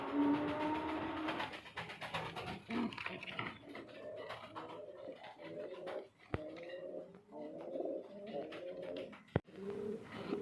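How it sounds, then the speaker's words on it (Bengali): Pigeons at a pigeon farm coo in repeated soft, throaty phrases close by, with a couple of sharp knocks and a low rumbling background. "এখানে আরো এক জোড়া কবুতর আছে, সবজি রেসার"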